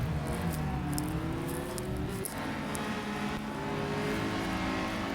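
Mazda RT24-P prototype race cars with 2-litre engines scream past in the racing game Real Racing 3, layered engine whines rising and shifting in pitch, loud and close, with sharp metallic clicks scattered above.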